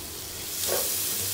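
Chopped tomato hits a hot pan and sizzles with a dense, even hiss. A brief louder flare of bubbling is heard midway, close and alone with no voices.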